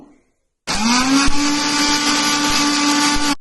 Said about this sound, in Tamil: இதை நம்ம இப்போது நல்லா மிக்சி ஜாரில் ஒரு ரெண்டு நிமிஷம் அளவுக்கு அடிச்சுக்கலாம்